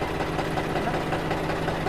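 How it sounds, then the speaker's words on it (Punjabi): A John Deere tractor engine idles steadily and close by, a continuous low rumble with a faint knocking pulse throughout, and no talk over it. "ਤੇ ਟਰੈਕਟਰਾਂ ਦੀ ਸਟਾਰਟਿੰਗ ਵੀ ਬਹੁਤ ਘੈਂਟ ਆ ਇਹਨਾਂ ਦੀ"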